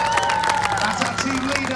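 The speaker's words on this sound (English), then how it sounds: "give him a big Western round of applause, come on!" Crowd at a night airshow of model and full-size aircraft claps and cheers in a short burst, mixed with voices and tonal background sounds.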